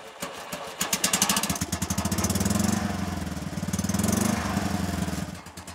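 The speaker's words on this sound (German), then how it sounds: "Der Sound, mehr Rasenmäher als Auto." A small single-cylinder microcar engine chugs and revs nearby, a rough, buzzy putter rising and falling in pitch like a lawn mower.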